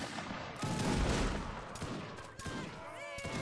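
A line of soldiers fires a musket volley in a Napoleonic Wars multiplayer line battle game, with loud, scattered shots crackling in rolling bursts and faint voices in the background.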